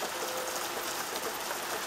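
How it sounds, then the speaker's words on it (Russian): Rain falls steadily in a dense, even hiss, with no clear individual drops or other sounds. "Солнце светит вовсю и дождь льет, как из ведра."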